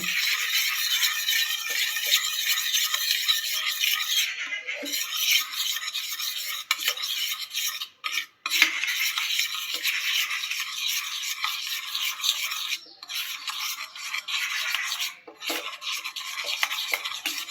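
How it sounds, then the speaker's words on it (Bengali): A utensil stirs spice paste into milk for a prawn malai curry, a continuous close scraping and rattling swish against the pan that runs steadily with brief pauses, and no talking. "এটা খুব ভালো করে মিক্স করে নিতে হবে দুধের সাথে"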